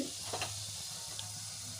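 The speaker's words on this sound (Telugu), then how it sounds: "ఆయిల్ కూడా వేడైన తర్వాత ఇందులో పోపు గింజల్ని యాడ్ చేసుకోవాలి" Soft, steady sizzling of tempering seeds (cumin, mustard, dried red chilli, chana dal) in hot oil, faint and continuous, with a couple of small crackles near the start.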